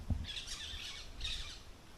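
Parrots near a backyard livestock farm give two harsh, high squawks about a second apart, moderately distant and faint over a quiet outdoor background.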